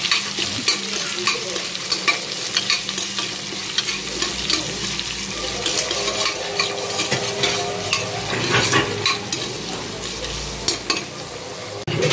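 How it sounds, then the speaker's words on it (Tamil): Sliced onions are sautéed in a pan for a potato salna, with a continuous loud sizzle broken by frequent scraping stirs and light clinks of a spoon against the pan. "வெங்காயத்தை ஆட் பண்ணிட்டு வெங்காயம் கோல்டன் ப்ரௌன் வரது வரைக்கும் வதக்கிக்கலாம்."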